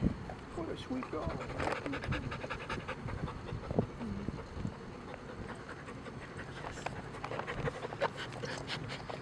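A Labrador dog pants steadily at close range, with quick rhythmic breaths running through the whole stretch under a person's affectionate talk.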